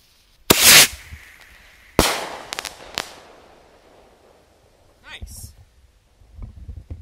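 Pink, purple and blue firework missiles shoot straight up with sharp launching whooshes and loud crackling bursts, several separate pops spaced across the clip, close by outdoors with a faint rumble between.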